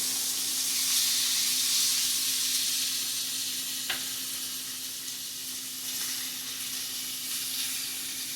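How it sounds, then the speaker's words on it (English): Chicken thighs searing face down in a hot pan give a loud, steady broadband sizzle and hiss, close up, with one brief clink partway through and no talking. "we're simply going to grab these and place them face down, so that we may sear them"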